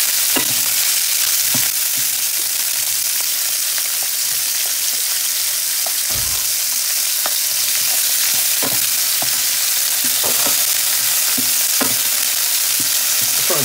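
Beef chunks for carbonnade de boeuf browning in a hot pan, a steady loud sizzle and frying crackle throughout with occasional sharp pops and stirring clicks, no talk.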